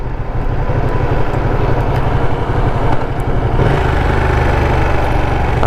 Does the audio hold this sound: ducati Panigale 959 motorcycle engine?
yes